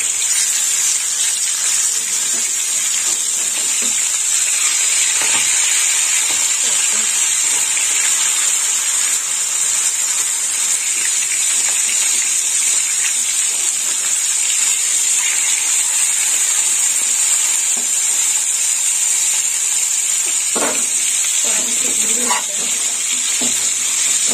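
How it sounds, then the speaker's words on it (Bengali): Small rohu fish, just flipped, fry in hot oil with a strong, continuous hiss and sizzle, close and loud, with a few light clicks and spatters toward the end and no talking. "লাল লাল করে ভাজা হবে মাছগুলো।"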